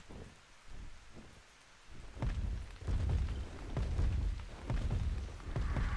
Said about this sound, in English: It's pouring.